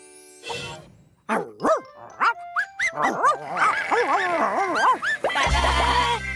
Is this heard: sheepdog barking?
yes